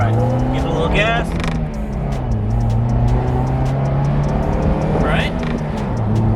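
A convertible sports car pulls away and accelerates with a short, quick upshift, its engine droning steady and close beneath a brief spoken remark.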